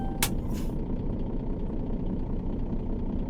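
A Scania R Series truck in the game On The Road rumbles with a steady, loud low engine drone, and a sharp air-brake hiss comes right at the start.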